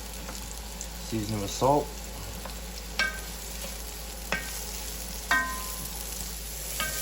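Mushrooms frying with bacon in a pan, a steady sizzle under a person speaking, with a few sharp clinks of a utensil against the pan.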